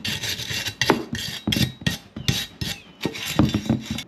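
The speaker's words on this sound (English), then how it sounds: "just take our wire brush again and just clean up all the edges all the way around" Harsh, rhythmic scraping of a wire brush worked around the edges of a Toyota Tacoma upper control arm bushing mount, with close, loud strokes in quick irregular bursts and no talking.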